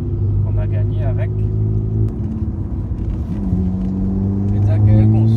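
A VW Polo 6C GTI Stage 3 with an IS20 turbo and upgraded intercooler makes a pass: a steady engine drone heard from inside the car, pitch stepping through gears, with people talking over it.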